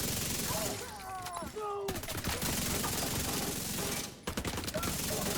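Rapid automatic gunfire rattles in bursts during a run-and-gun fight in The Division, loud and close with short pauses, with faint game effects and brief tonal sounds between volleys.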